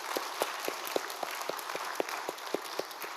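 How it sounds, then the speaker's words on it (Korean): A church congregation at Daechi Full Gospel Church claps in steady unison, about four sharp claps per second. The clapping is moderately close and clear, with no talk over it. "우리 하나님께 영광의 박수합니다"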